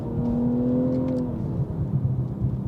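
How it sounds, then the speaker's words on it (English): Exhaust of a 2022 BMW M240i revving, a loud steady engine drone that holds a falling tone before easing into rougher rumble, close and alone with no talk. "I love this exhaust."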